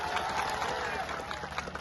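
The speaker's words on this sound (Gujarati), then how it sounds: "એમની માટે જોરદાર તાળીઓ થઈ જાય" An audience claps for police officers at a public gathering, a steady wash of many hands heard from a short distance, fairly subdued and brief.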